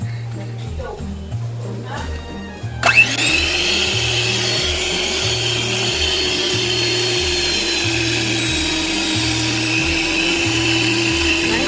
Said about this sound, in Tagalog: Ngayon ay i-mix muna natin sa number 1 at mamaya ay mag-high speed tayo.